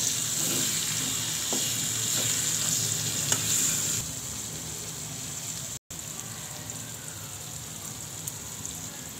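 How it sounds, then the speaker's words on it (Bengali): Chopped onion, garlic, dried and fresh green chillies stir-frying in oil over lowered heat, a close, continuous sizzle with faint stirring scrapes that drops slightly in level midway and briefly cuts out. "এখন এটা নাড়াচাড়া করে ভেজে নিব।"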